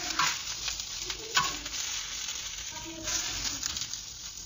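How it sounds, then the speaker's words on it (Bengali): Onions dry-roast over low heat in a pan without oil, a soft crackling sizzle close by with intermittent scraping stirs. "আবারও কিছু পেঁয়াজ অল্প করে মানে হালকা তাপে এটাকে তেল ছাড়া ভেজে নিচ্ছি।"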